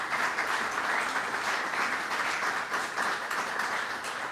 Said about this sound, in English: They deserve a round of applause for their leadership